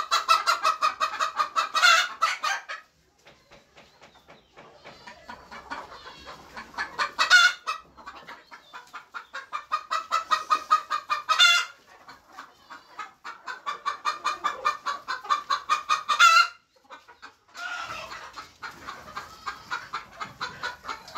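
Several hens cluck and squawk close by in loud, repeated bursts, with short pauses between the busier outbursts.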